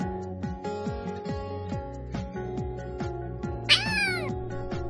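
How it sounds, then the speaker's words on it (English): A domestic cat meows once, loud and close, rising then falling, over steady background music with no talking. "Cat."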